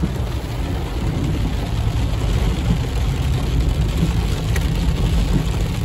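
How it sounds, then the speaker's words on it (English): Heavy rain in Big Bear, California, makes a dense, steady roar of falling water that runs unbroken through the clip, mixed with a low rumble that may come from a vehicle. "continue showing you guys the crazy amount of rain coming down in Big Bear"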